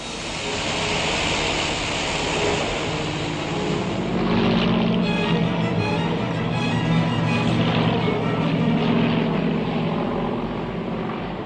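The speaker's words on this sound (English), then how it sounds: "Aircraft searched the seas ready to bomb and machine gun." A steady propeller aircraft drone fills the scene, loud and continuous, its engine tone thickening and growing closer partway through; a First World War-era aircraft.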